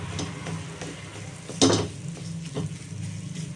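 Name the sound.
ginger and date candy mixture roasting on low flame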